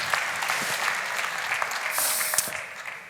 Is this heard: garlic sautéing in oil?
no